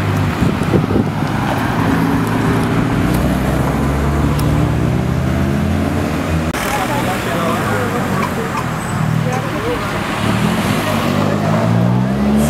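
A Renault Sandero RS drives past on a street, its engine and road noise rising and fading amid steady traffic rumble, wind buffeting and people talking nearby.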